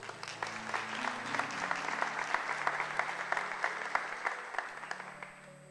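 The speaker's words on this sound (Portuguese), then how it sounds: "Aplauda o Senhor" A church congregation applauds during a service, a steady roomful of clapping with distinct claps popping out in loose rhythm, moderately loud and unbroken by talk.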